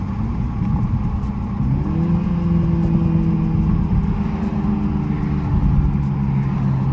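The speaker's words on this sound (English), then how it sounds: "the blow off just sounds so good" A big single-turbo Toyota Supra rumbles steadily from inside the cabin, engine note rising slightly as it pulls, with a continuous low drone and no clear blow-off hiss standing out.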